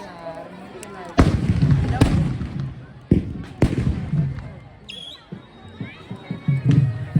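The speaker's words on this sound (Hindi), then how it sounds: "लोग पटाखा चला रहे गाइस" Several sharp firecracker bangs go off in quick succession at close range during an evening village festival, with crowd chatter and voices in the background.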